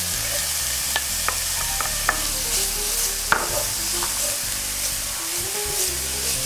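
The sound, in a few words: chopped carrots and celery frying with onions and garlic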